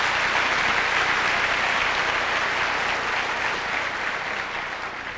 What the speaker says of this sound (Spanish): Démosle un buen aplauso al Señor.